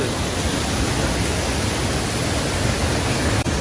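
The Euphrates River flows near hot springs in a steady, full-band rush of water, loud and constant throughout with no speech over it.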